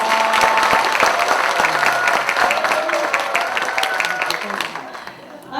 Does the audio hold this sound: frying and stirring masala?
no